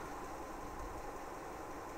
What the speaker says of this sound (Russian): Так, все, мы записали сигнал, теперь можно заглушить двигатель.